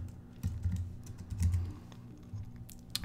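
Typing code on a computer keyboard while building a simple app in Xcode, with scattered soft key clicks in short irregular bursts, close and fairly quiet, with no talking.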